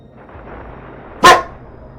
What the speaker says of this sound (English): that's my young German Shepherd. He's 5 months, and that was him barking.